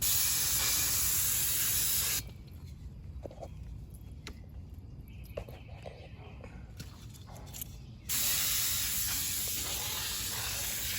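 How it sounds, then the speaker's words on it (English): Brake cleaner degreaser sprayed from an aerosol can inside a 2007 Hino 268 box truck transmission housing, a sharp sustained hiss for about six seconds, stopping abruptly, between stretches of louder background noise. "And I sprayed it inside."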